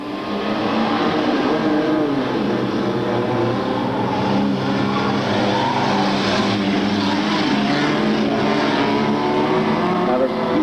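Race cars roar off at the start of a 1997 racing event, engines loud and continuous as the field accelerates together, with an announcer talking over the steady engine noise.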